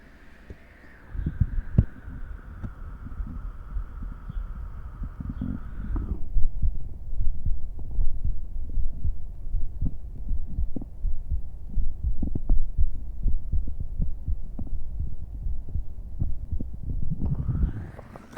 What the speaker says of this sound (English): Now my heartbeat finally sounds normal and not caffeinated.